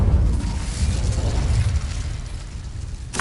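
A fire spell, Incendio, cast in the Hogwarts Legacy video game, gives a loud, sustained burst of low roaring flame and rumble that fades slightly before a brief bright crackle at the end.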